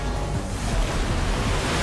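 Primordial water rushes in the Genshin Impact video game, a broad roaring surge like heavy surf, loud and constant with no voices over it.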